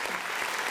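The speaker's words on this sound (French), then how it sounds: "merci de l'applaudir" Steady applause from an audience, a dense wash of clapping hands throughout without pause.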